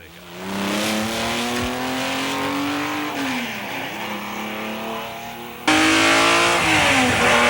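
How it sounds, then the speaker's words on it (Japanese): A Ferrari BB Le Mans race car is driven hard around the Laguna Seca circuit. Its loud engine revs climb and fall through gear changes, then jump abruptly louder near the end, close and raw. "BB ルマンのドライビング感覚をベテランドライバーフィル・ヒルとともにラグナセカのサーキットで味わってみましょう"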